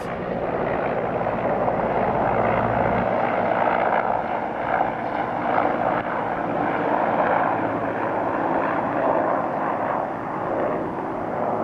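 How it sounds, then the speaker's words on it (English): A helicopter's engine and rotor roar at a distance as it takes off and flies away down a valley in Nepal's Himalaya, a broad steady drone that swells slightly and then gradually thins out. "a helicopter taking off."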